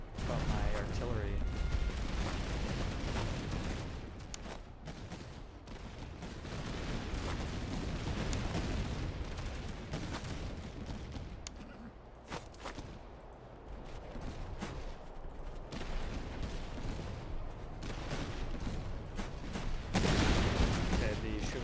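Artillery and musket fire boom in a Master of Command battle, dense rolling volleys and thuds layered under someone talking, loud and continuous with brief lulls.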